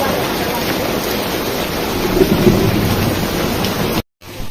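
Heavy rain pours steadily during a downpour in Sonargaon, Bangladesh, a loud dense wash of noise that fills the whole stretch before cutting out briefly near the end.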